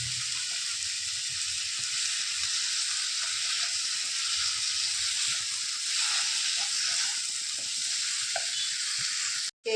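Masala for prawn biryani frying in a pan before tomatoes go in, giving a steady, loud, close sizzling hiss that runs unbroken throughout and then cuts off abruptly at the very end.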